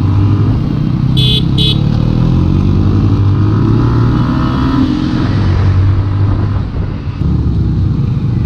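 Yamaha R15 motorcycle ridden through traffic on a long day of touring, its engine droning loud and close throughout with steady wind rumble and a brief double horn honk early on.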